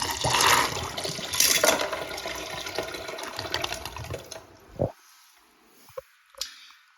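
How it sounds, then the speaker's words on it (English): A Black Beauty high-tank toilet flushing four marbles: a loud rushing surge of water that drains away over several seconds, followed by a few faint gurgles and clunks. "here we go with trying to flush 4 marbles"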